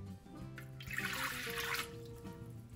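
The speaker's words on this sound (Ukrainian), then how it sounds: "в мисочку вливаємо теплу воду" Warm water pours into a small bowl as the starter dough for a Ukrainian palianytsia bread begins, a steady splashing gush of about a second at close range with kitchen hum beneath.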